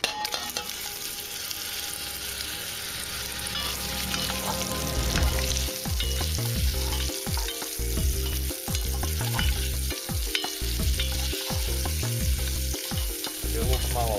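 Soup vegetables with onion and garlic sautéing in a little olive and sunflower oil. A loud, steady sizzle is broken by repeated rhythmic scraping and stirring strokes in the pan, with no talking.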